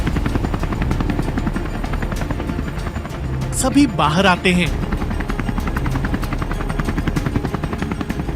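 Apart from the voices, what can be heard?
helicopter flying overhead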